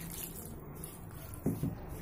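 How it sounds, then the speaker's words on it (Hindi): Water trickles and splashes softly into a bowl of flour while roti dough is being mixed, low and close, with a couple of small splashes partway through and no voices. "अब हम थोड़ा थोड़ा पानी डालकर"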